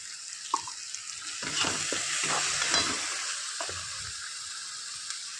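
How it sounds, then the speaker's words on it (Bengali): Ground coriander and cumin stirred into hot oil in a pan for a soybean, pointed gourd, prawn and potato curry: a steady sizzle with scraping, clattering spoon strokes, close and moderately loud, with no talking. "ধনে আর জিরে গুঁড়ো দিয়ে দেবো, আবার একটু ভালো করে নাড়াতে দেবো।"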